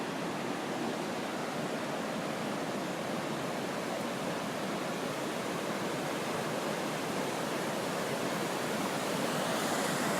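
Small waterfall on the Deschutes River gives a steady, broad rushing roar of falling water, continuous and even from start to finish with no voices.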